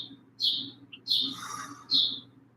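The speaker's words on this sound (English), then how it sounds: "I love being able to hear the birds chirping." Three short, bright bird chirps ring out in a quiet indoor space, spaced irregularly with a soft hum beneath.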